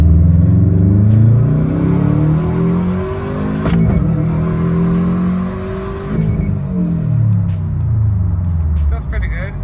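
A 2021 Subaru WRX STI in second gear, fitted with a Grimmspeed dry panel filter, revs up and down several times with a loud, close engine note. A person speaks over it.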